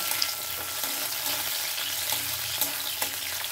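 Sliced capsicum frying in hot oil gives an even, close sizzle with faint stirring taps. It runs for a few seconds with no talking.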